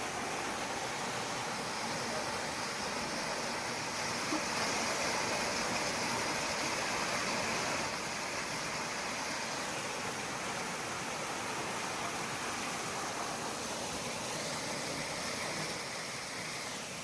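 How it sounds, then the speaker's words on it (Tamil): Water pours steadily down the Keralam Kundali waterfall, a constant broad rushing roar that stays even and unbroken, with no voices over it. "அந்த அருவி கொட்டுது"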